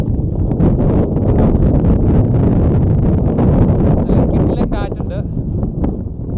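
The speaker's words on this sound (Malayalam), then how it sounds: "അടിപൊളി കാറ്റ് എന്ന് പറഞ്ഞാൽ അടിപൊളി കാറ്റാണുള്ളത്" Strong wind at Thangal Para, Vagamon buffets the microphone in a continuous, loud, rumbling roar that barely eases throughout.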